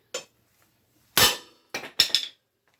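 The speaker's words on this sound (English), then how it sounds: "the easiest way to do that is with a mallet also. Make sure you have good aim. You gotta give it a real good whack." A mallet whacks the gear set off a Volvo Penta vertical shaft: four sharp, loud metallic strikes, the first alone, then two closely spaced pairs, each ringing briefly with no talking.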